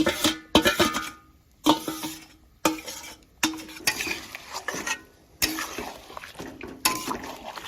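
Marinated meat mixed and sautéed in a pan with spices, stirred briskly with a utensil: repeated scraping and clattering strokes against the pan with soft sizzling between, close and fairly loud, no voices.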